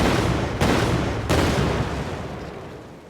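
A game explosion sound effect fires in Unreal Engine 4: two loud, sharp booms about a second apart, each followed by a long rumbling tail that fades away.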